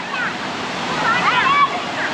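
Water pours at a waterfall bathing spot, a steady rushing wash filling the clip, with faint voices and brief high calls blending in behind it.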